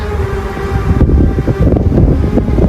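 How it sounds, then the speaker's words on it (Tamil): Strong wind gusting with rain at an ancient hilltop Murugan temple, a loud, steady roar of buffeting air and rumbling microphone noise with rising and falling gusts and no talk. "மழை நல்லா காற்று ஓர அடிச்சிட்டு இருக்கு இப்போ"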